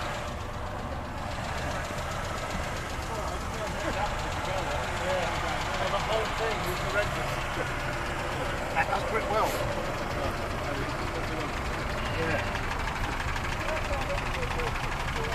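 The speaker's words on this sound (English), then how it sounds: "1953 Series 1 Land Rover. 2 litre. Petrol? Yeah. Sounds like a diesel, but it's petrol." A 1953 Series 1 Land Rover's 2-litre petrol engine runs at a steady idle with a rough, diesel-like knocking chug, continuous and moderately close, with voices talking over it.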